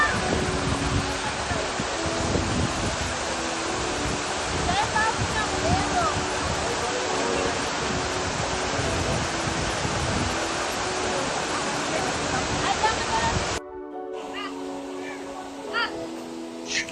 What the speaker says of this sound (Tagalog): ito yung pinakamagandang falls sa lahat na napuntahan namin ngayong araw